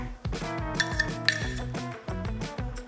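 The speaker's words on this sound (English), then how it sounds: "Now the ube halaya, mix that in there." A spoon clinks and scrapes against a bowl in rhythmic strokes while ube halaya is stirred into condensed milk, producing bright metallic taps close up with no talking.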